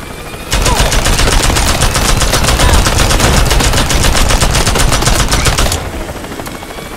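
Rapid automatic gunfire from the Worms WMD video game roars loudly and continuously for about five seconds, a dense stream of shots that then stops abruptly.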